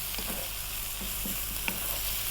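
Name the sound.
spices sizzling in a frying pan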